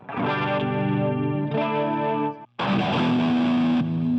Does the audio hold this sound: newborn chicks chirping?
no